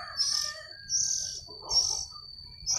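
A nest of five oriental magpie-robin chicks being hand-fed, giving repeated thin, high begging cheeps in four short bursts close up, with a faint steady tone running underneath.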